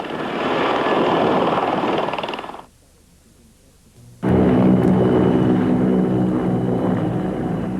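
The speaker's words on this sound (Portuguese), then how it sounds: "o Apache é o mais assombroso helicóptero de ataque do mundo" An Apache attack helicopter roars loudly with a dense rotor and engine wash. The noise drops to near silence for about a second and a half, then returns just as loud with a steady droning hum.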